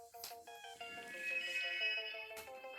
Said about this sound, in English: Oh, here's my ringtone.